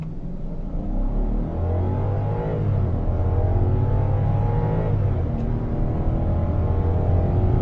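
A 2015 Kia K900 V8 revs up steadily from inside the cabin, a deep rising engine drone climbing in pitch and holding strong, with no talking over it.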